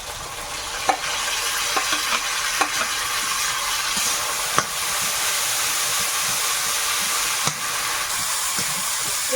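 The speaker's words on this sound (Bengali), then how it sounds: "মশলাটা একটু নেড়ে কেড়ে নিলাম" Spices stirred in a hot pan with onion, bay leaf, ginger-garlic paste and green chilli for a chicken curry: a steady close sizzle with scraping stirs and occasional spoon knocks against the pan, no talking.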